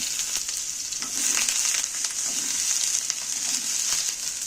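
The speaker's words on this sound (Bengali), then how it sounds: "পটলগুলো তেলের মধ্যে তুলে দিচ্ছি" Washed pointed gourd pieces dropped into a little hot oil, a continuous close sizzle with occasional stirring clatter, steady and fairly loud throughout.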